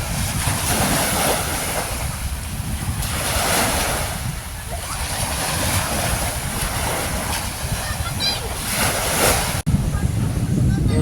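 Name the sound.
waves at Lirang-Lirang Beach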